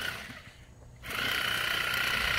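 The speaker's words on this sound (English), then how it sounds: "it just goes a lot quicker with that sawzall than using a regular knife blade" A Sawzall reciprocating saw cutting into putting green turf kicks in after a short quiet pause, then runs as a steady, fast buzzing rasp, fairly faint.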